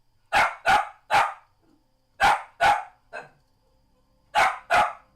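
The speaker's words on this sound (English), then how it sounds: "apologies if the dog's too loud." A dog barks loudly and close by, seven sharp barks in quick clusters of two and three with short pauses between, heard with no talking.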